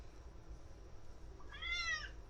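A cat meows once, a short rising-falling call heard fairly close over a steady low background hum, with no talking.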